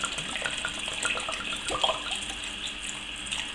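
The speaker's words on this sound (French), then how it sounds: "on va compléter avec le vin rouge de façon à couvrir copieusement" Red wine poured steadily into a pot of daube provençale, a continuous close splashing and gurgling of liquid running for several seconds without pause, with no talk.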